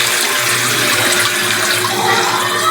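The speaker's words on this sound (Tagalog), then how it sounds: "Yan, lagyan natin ng tubig" Water is poured into a cooking pot over garlic and onion while making ginataang santol, a steady, loud, close splashing rush that continues throughout without pause.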